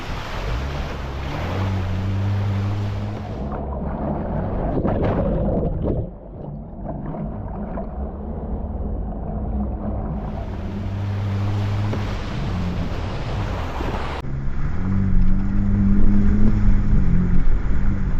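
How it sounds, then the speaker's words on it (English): Rushing floodwater of a risen creek surges around an off-road vehicle on a solo trail trip, a loud continuous churning roar with wind buffeting the microphone, briefly dipping midway before swelling louder toward the end. "I didn't notice how much the creek has risen."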